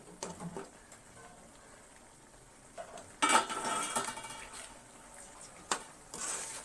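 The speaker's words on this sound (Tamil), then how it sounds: "இதை நல்லா மசிச்சு கிளறிக்கோங்க" A spoon scrapes and clanks against a pan while tomato garlic thokku is mashed and stirred, giving several short metallic scrapes and knocks over a quiet low sizzle, with no talk.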